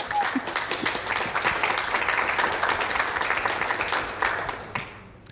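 A crowd applauds the art team during an online furry convention's puppet show interview, a dense, steady wash of clapping that holds for about five seconds before tapering off at the end.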